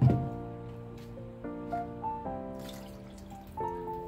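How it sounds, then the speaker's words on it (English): Water running into a pot for Filipino tinola chicken soup makes a faint, rising tonal pour whose pitch shifts in steps as the pot fills, with no talking. "Add some water. I usually add 3 cups of water, but it's up to you, 2 to 3 cups would be great."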